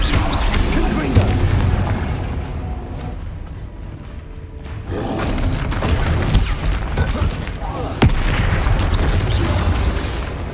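Bombarda and Confringo spell explosions from the video game Hogwarts Legacy thunder in a continuous, loud barrage of booms and crackling impacts, mixed with shouted spell names.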